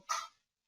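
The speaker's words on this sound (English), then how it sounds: "That was my dog Halo." A dog gives one short, sharp bark close by, alone and quickly cut off.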